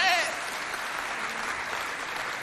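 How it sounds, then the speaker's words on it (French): Audience applause at a televised show on women's participation in an inclusive national dialogue, a steady mass of clapping that holds at one level throughout the short stretch, with a brief voice heard at the very start. "Et toujours sous vos applaudissements, nous allons accueillir Madame Koumandial Marie Nanalbaï"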